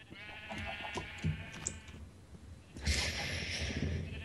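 Sheep in the Minecraft video game give a clear, wavering synthetic bleat lasting about two seconds, followed after a brief pause by a burst of hissy, crunchy game noise; quiet overall with no talking.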